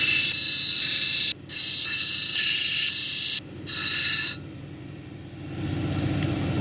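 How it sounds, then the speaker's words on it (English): A lapidary grinding wheel works the edge of an orbicular jasper cabochon in a few close, steady bursts with brief pauses, then the grinding stops and only a lower machine hum remains. "I'm going to grind away this edge right here and kind of work my way towards the center"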